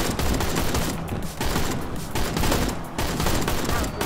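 Dense, continuous volleys of gunfire in the co-op brawler Mother Russia Bleeds, loud and close, with brief dips between bursts over about four seconds.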